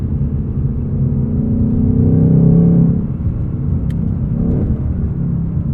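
A 2024 Ford Mustang Dark Horse with a 10-speed automatic drives in normal mode, its engine giving a steady loud rumble from inside the cabin. The revs swell for a few seconds, then settle back to a constant drone.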